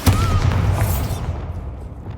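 The Bombarda explosion spell in Hogwarts Legacy goes off as a single loud, close boom with a brief whistling shimmer, then the rumble trails away.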